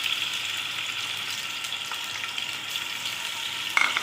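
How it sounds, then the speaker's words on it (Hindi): Medium-sized onion frying in hot oil for potato rice tahari, a steady close hiss and crackle with a brief stir-like scrape near the end, with no voices. "ये मैं डाल रही हूँ उसके अंदर प्याज।"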